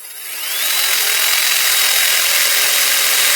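A power drill spins up quickly and then cuts steadily into a workpiece, producing a loud, continuous high-pitched whine that holds at a constant pitch for a few seconds at close range.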